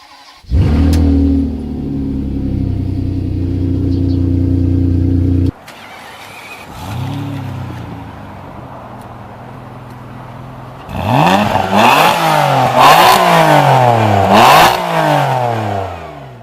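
A Ferrari 612 Scaglietti engine cranks and fires loudly, settles into a steady idle, then revs up and down several times in quick, rising and falling pulls.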